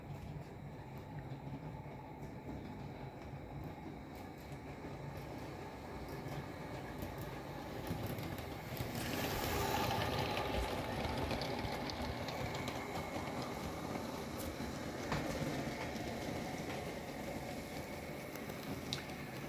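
Model Triang Hornby R55 CP diesel locomotive running along its track, a steady continuous rumble and whir with faint rail clatter that swells slightly midway and stays fairly close throughout.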